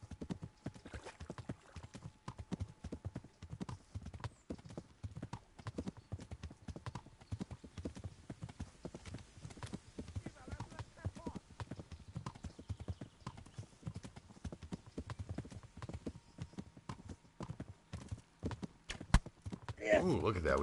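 A horse galloping during a chase in the medieval video game Kingdom Come Deliverance, a long, steady stream of close hoofbeats with a possible whinny, with someone talking over parts of it.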